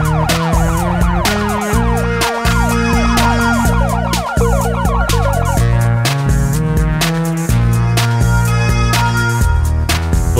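A loud, continuous police Hummer siren wailing in a repeating pattern over a dense, busy mix of other tones, steady and close throughout.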